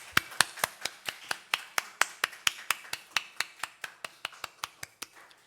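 A church congregation claps in unison to encourage the summer Bible school teachers, about twenty sharp claps in a steady, even rhythm, each ringing briefly, with no talking.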